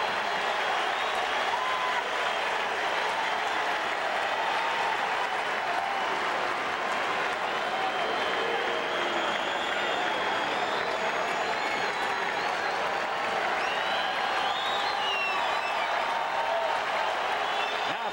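A baseball crowd at a Houston ballpark keeps up a steady roar of cheering and hollering, broad and continuous throughout, with scattered whistles and shouts rising out of the wash at a distance.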